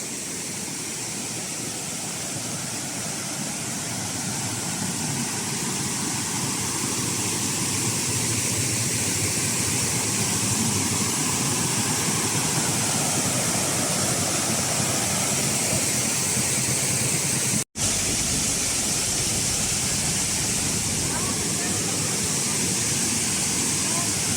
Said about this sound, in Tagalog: so we're here now at Membalot Falls